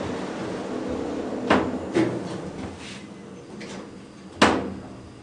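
Doors on a Dover hydraulic elevator in a hospital parking garage slide closed with a couple of soft thuds and rumbling. A sharper clunk comes near the end as they meet, heard close up in a quiet space.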